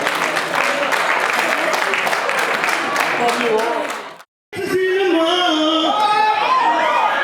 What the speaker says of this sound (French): Applaudissez les mariés.